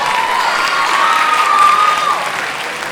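An audience applauds at a spring band concert, a dense steady clapping that is loud and close throughout, with a faint whistle or cheer running through the middle.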